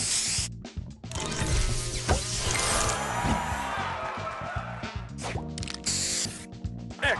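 A spray booster effect from a match-puzzle video game fires as bursts of hissing spray, layered over busy, continuous game music and chimes.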